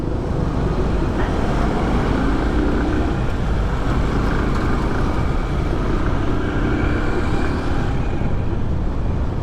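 Busy road traffic rumbles continuously near a roadside utility pole under construction, with a low engine drone and passing vehicles blending into one steady, fairly loud wash of noise.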